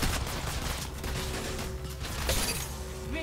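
Continuous automatic gunfire in an Apex Legends Mobile match, rapid close shots with crunching impacts and clinks, steady and dense for a few seconds.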